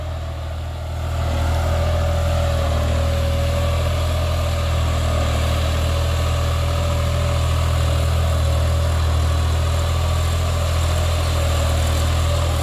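A New Holland 5620 4x4 70 hp tractor pulls an 11-tine tiller through a field in second gear at around 1500–1600 rpm. The steady, loud diesel drone holds close and constant with no voices.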